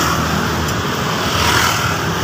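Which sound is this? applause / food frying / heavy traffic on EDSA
heavy traffic on EDSA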